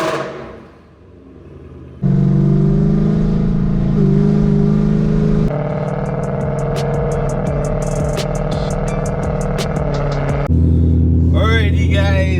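A supercharged Ford Mustang 5.0 with a Vortech V3 blower runs on a drive, engine drone steady and loud across several segments, with a higher whine and ticking bursts late and a brief quiet start.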